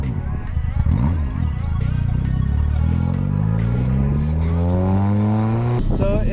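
A modified 300-horsepower Mazda Miata engine revs up under throttle, its pitch climbing steadily in a loud, close, continuous rising whine with harmonics, while people talk over it.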